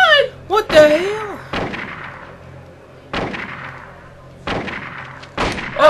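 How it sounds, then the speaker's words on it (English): Gunshots from the video game Silent Hill ring out in sharp single blasts, several spaced seconds apart, each fading with a short echo, while a person reacts and talks between the shots. "Oh, she's shooting me!"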